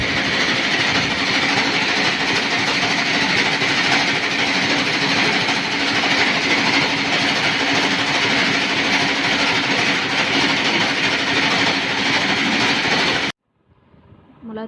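A grinding mill pulverising dried chillies together with curry leaves into chili powder, a loud, continuous mechanical drone with a steady hum and rattle that runs unbroken and then cuts off abruptly near the end.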